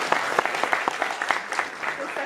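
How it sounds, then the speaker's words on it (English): A small audience claps after a candidate's speech during a historian candidate speech and Q&A, scattered individual hand claps in an irregular rhythm, fairly close and moderately loud, with faint voices underneath. "We could all clap for that."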